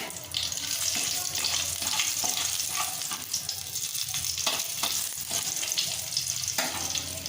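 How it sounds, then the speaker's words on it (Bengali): Panch phoron spice tempering with three slit green chilies frying in oil, cooked for a rui fish kaliya, giving a steady, dense sizzle throughout with faint stirring clinks and no talking. "ফোড়নটা হালকা করে একটু ভেজে নেব"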